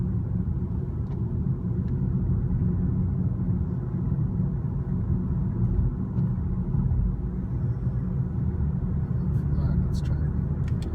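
A 2016 BMW 340i driving in city traffic, heard from inside the cabin as a steady low engine and road rumble with no talking.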